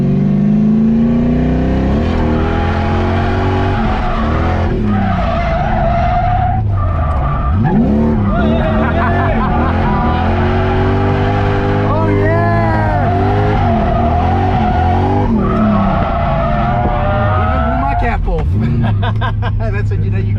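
A car drifts in third gear during a ride-along with a drifter in South Africa: a loud, steady engine roar and revving with long squealing, skidding tires across the whole stretch, and voices faintly mixed in.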